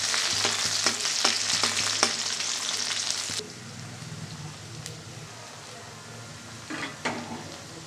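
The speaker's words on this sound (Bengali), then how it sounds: "তেল দিয়ে দিলাম ডাল ফোড়নের জন্য। একটা পেঁয়াজ দিয়ে দিলাম।" Onion frying in oil for a lentil dal tempering: a strong, steady sizzle with spoon taps for about three seconds, then the hiss drops sharply to a faint background with occasional clinks.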